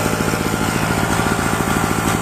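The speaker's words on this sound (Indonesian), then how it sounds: "kita tes mesin jalannya dulu" A small portable generator engine with a fault that leaves it unable to power lights or a drill runs at a steady, rapid putter, close and loud, with an even pulsing rhythm and no talking.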